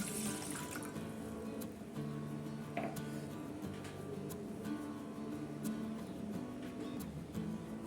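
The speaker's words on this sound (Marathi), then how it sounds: "आता आपल्याला थंड पाणी टाकायचे" Cold water runs and trickles steadily into a glass, with a few faint clinks and a low hum behind it.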